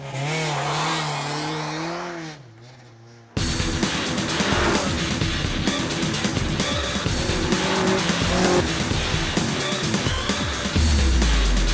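A big V8 car sliding its back end out, engine roaring and revving hard while the tires squeal continuously, loud and close for several seconds after a brief dip in sound.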